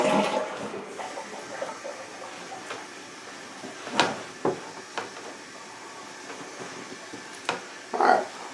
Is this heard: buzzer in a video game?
no